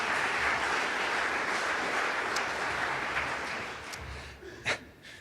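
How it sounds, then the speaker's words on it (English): An audience at an academic keynote conference applauds the presentations, a broad steady wash of clapping that slowly fades, then a brief sharp sound near the end. "If we can have a round of applause again for all the presentations,"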